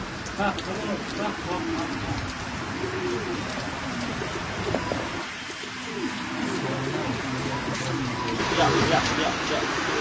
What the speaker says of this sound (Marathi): बघू शकता पाऊस किती आलाय बाहेर.